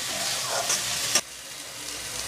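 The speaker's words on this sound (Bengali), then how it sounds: "একটু নাড়াচাড়া করে এক ফোঁটা জল দিয়ে দেব নাড়াচাড়া করব" Samosa filling sizzles loudly in a hot pan while being stirred, then the frying drops to a quieter, even hiss after about a second.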